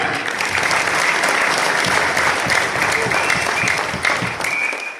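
A large audience at a company success celebration in Hyderabad applauds loudly and steadily, with dense, sustained clapping filling the whole moment and no pauses.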